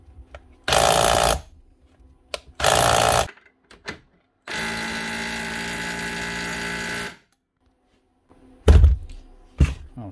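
A Dewalt DCH253 brushed SDS drill runs loud and close in hammer mode, with two short bursts, a longer sustained rattling run and later a heavy knocking burst, separated by clicks and silence.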